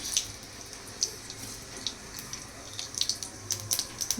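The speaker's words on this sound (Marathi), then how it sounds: "आता तेल तापलेलं आहे, त्याच्यामध्ये मी थोडेसे जिरे टाकते." Cumin seeds sizzle in hot oil at the start of tempering for urad dal, giving a steady soft fizz broken by scattered sharp crackling pops that cluster toward the end.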